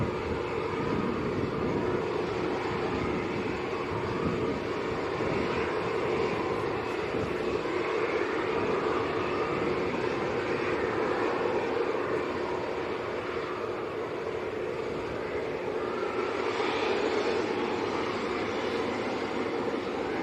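Aircraft arriving at Leeds Bradford Airport in the evening, a steady, loud broadband engine roar that holds throughout with no clear rise or fall, no voices heard over it.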